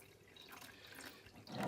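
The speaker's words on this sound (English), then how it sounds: "I pour water in the machine until I hit 6 cups" Water is poured into a coffee machine's reservoir, a faint continuous trickle and splash that grows louder toward the end.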